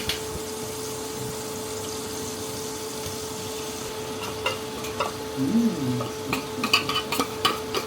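Tuna is frying in an oily pan, a steady close sizzle and hiss with utensil clatter and stirring sounds picking up toward the end.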